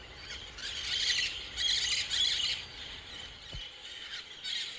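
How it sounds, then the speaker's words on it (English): Flocks of green parrots in Costa Rica squawk and screech in repeated bursts, shrill and moderately distant, with quieter gaps between calls and no talking. "All the green parrots. You see them all flapping around in there?"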